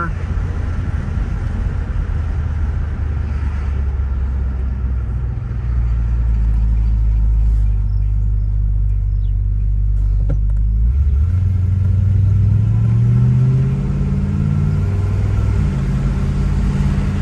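Low road rumble and engine drone from a 1969 Lincoln Continental Mark III on the move, with the engine note rising and shifting as it accelerates, loud and continuous from inside the car.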